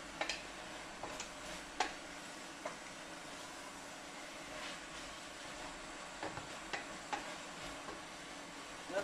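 Meat simmering in a cooking pot gives a faint, steady bubbling sizzle with scattered small ticks and clinks, heard alone without voices.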